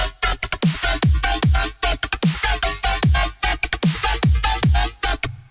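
Dirty bass synth patch made in Serum, heavy distorted growling bass hits in a fast repeating rhythm with deep pitch drops, loud and alone.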